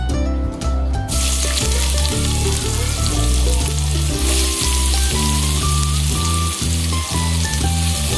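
Chopped onions sizzle steadily in hot soybean oil, a constant crackling hiss that runs under loud background music from start to finish.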